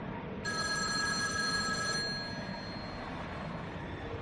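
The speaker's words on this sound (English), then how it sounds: "Then the phone rang." A telephone bell rings once with a bright, sustained electronic tone, heard close over a low steady background hum.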